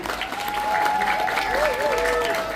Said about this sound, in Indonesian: Tepuk tangan untuk Pertamina.